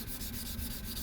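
A Damascus knife blade is hand sanded with 400-grit sandpaper in quick, close, rhythmic rubbing strokes, a soft continuous scratchy swish.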